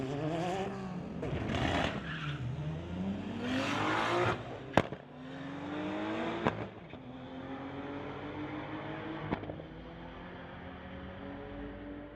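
A 1996 Honda Civic and a 1992 VW GTI drag racing on a strip, loud engines revving and accelerating away with rising and falling tones and a few sharp clicks, fading as the cars pull off.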